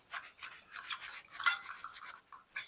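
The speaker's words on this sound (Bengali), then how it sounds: "সামান্য একটু জল দিয়ে এই মশলাটাকে একটু গুলে নেব" Light clinking and scraping of a spoon stirring coriander, cumin and Kashmiri chili powders with a little water in a small bowl, quick irregular strokes up close with brief pauses.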